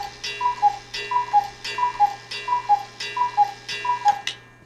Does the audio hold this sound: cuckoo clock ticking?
yes